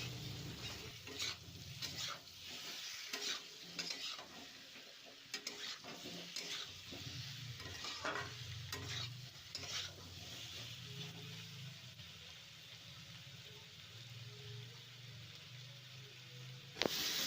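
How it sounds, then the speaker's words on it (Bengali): Chili powder and turmeric with sugar fry in a pan while being stirred, giving a faint continuous sizzle with repeated soft scraping strokes of a spatula. "দিয়ে ভালো করে নাড়াচাড়া করে মিশিয়ে নেব, যাতে লঙ্কা হলুদের গন্ধ না থাকে"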